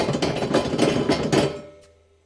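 The augers of a Cub Cadet 3X snowblower, an MTD-built machine with a 23-inch housing and 12-inch augers, give off a close, rapid rhythmic knocking that fades away after about a second and a half.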